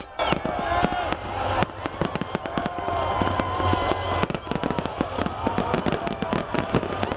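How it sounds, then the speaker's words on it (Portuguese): New Year fireworks display over Copacabana beach, with continuous dense bangs and crackles bursting in rapid succession at close range, loud throughout and sounding over a rumbling crowd background. "um espetáculo pirotécnico que durou 16 minutos"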